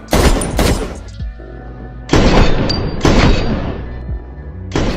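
Gunfire in a John Wick Chapter 4 film scene as Winston shoots John: several loud, close booming shots with sharp attacks and ringing tails, spaced irregularly over a few seconds.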